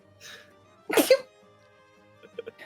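A single loud sneeze close to the microphone, with faint murmuring voices before and after.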